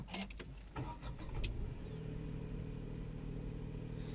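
A 2023 Tata Nexon 3-cylinder petrol engine cold-starts at the push of a button: a short cranking burst catches, then settles into a steady, elevated idle hum close by, with no talking.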